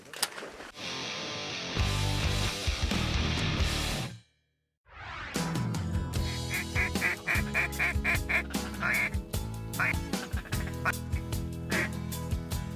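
A variety of ducks, including green-winged teal, quack and call loudly and close by, with dense overlapping squawks, then a brief silent gap before a busy stream of rapid calls resumes.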